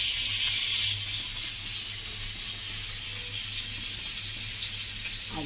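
Bangda mackerel sizzles in hot oil on a flat pan, a bright steady hiss that flares loudest at first and then settles into an even fry over a low hum.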